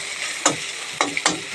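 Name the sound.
frying egg mixed with potato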